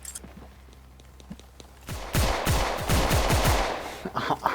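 An automatic gun in a Roblox game fires a loud, rapid burst lasting about two seconds, following a quieter stretch with faint clicks.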